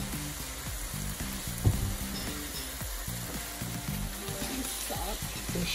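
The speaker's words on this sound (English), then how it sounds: "gonna add some fish sauce to the mixture here." Fish sauce hits a hot pan of Thai chicken Panang mixture, giving a steady, fairly quiet sizzle with scraping stirs and a small knock, and no talking.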